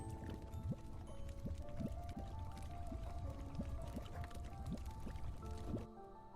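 Potion brewing in a witchy magic-shop alchemy video game: soft liquid stirring and pouring sounds repeat at a steady rhythm over sustained tonal game music, moderately loud and close, ending in a brief quiet moment.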